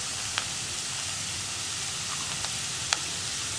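Coarsely cut onions frying in a pan for veg Manchurian make a soft, even sizzle, broken by a few faint clicks.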